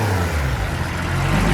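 A car engine revs hard and steadily during donuts on a street tune, a loud, continuous roar with low rumble and broad tire and exhaust noise and no pauses.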